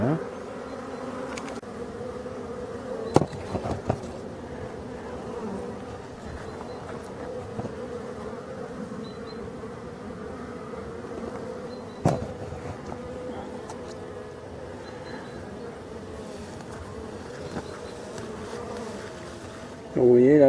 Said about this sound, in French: Ça ralentit, les abeilles sont dans mon dos.